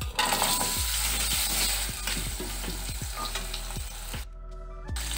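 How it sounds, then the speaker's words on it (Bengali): Potatoes frying in oil with bay leaf, dried red chili and panch phoron, a strong, close sizzle broken by repeated rhythmic scraping and clicking of stirring, briefly quieter near the end. "আলু হালকা করে ভেজে নিয়েছি"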